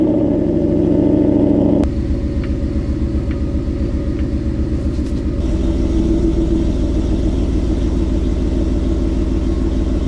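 A Ford Mustang S197, just refitted with a stock transmission, rolls down the road with a steady low engine rumble and road drone, a sharp click near two seconds and a brief shift in tone midway, with no talk.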